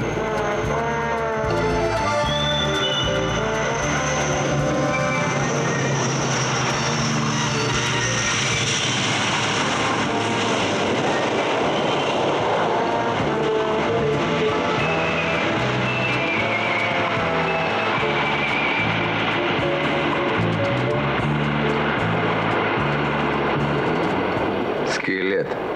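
Steady, loud airplane engine drone fills the whole span at close range, a continuous roar with voices briefly heard over it, in a 1993 comedy film scene at an aircraft.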